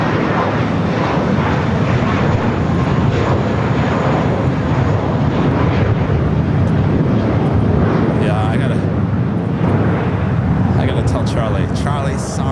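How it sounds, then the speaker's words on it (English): A seven-year-old JetBlue Airbus A321 takes off from the south side of LAX with a loud, sustained jet roar. A voice speaks over it intermittently. "it's our next takeoff here on the south side"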